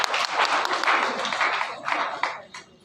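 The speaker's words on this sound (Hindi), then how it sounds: "जोरदार तालियां बजनी चाहिए श्रीवास्तव सर के लिए" Brief, close applause from an audience at a university arts festival in Darbhanga, a dense burst of clapping that tapers off near the end.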